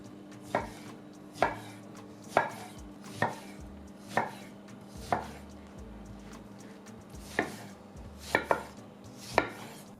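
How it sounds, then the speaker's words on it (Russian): A knife chops oranges into large pieces on a cutting board, about ten sharp thuds spaced roughly a second apart, close and clear with no talking. "Все остальное нарезаем крупными кусочками."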